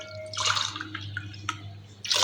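Water splashes in short, uneven pours into a glass while a satto drink is being made, with a couple of brief drips in between over a low steady hum.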